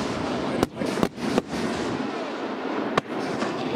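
At a raft fireworks shoot on Bass Lake, a 3-inch, 9-shot fireworks cake fires off amid a dense crackling, hissing barrage, with several sharp loud bangs spaced irregularly across a few seconds.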